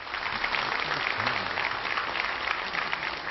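Steady, dense applause fills a session of South Korea's National Assembly during a presidential address, sustained at an even level throughout with no breaks.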